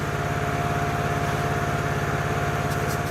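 A commercial Vevor electric grain mill grinds corn with a steady, rapidly pulsing motor drone and a grainy hiss, continuous and close for the whole stretch.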